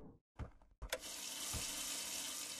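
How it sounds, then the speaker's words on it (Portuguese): Steady rush of water running from a tap in the video game Stickman Escape School 3, starting after a couple of short clicks and knocks and then flowing continuously at a fairly strong, even level with no talking. "eu abri a água!"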